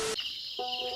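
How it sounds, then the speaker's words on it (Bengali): Crickets trill in the dark around 4 a.m. on the way to the Ganges bank, a steady, faint, high insect drone lasting the whole moment, with a brief low tone at its start and end. "ভোর 4টের সময় ঝিঝি পোকার ডাক শোনো।"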